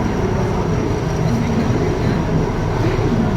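Howrah–Darbhanga Weekly Express (train 15235) pulling in at platform 8 of Howrah station, a steady loud rumble of rolling wagons filling the whole stretch amid crowd noise on a hot, busy platform.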